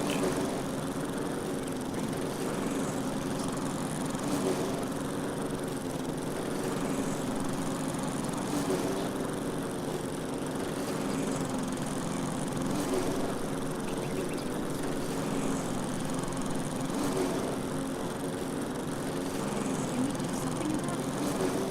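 Lawn mower engine in the video game Lumberjack's Dynasty, a continuous droning motor hum that holds steady and loud throughout, with no breaks.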